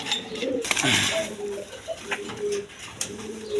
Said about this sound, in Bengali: এক পেয়ার বোম্বাই কবুতর আছে দেখেন ইন্ডিয়ান বোম্বাই রেড কালার মধ্যে একদম কোয়ালিটি সম্পন্ন কবুতর